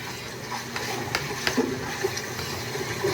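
Someone wading through deep flood water, a continuous close sloshing and gushing wash with a few heavier splashes.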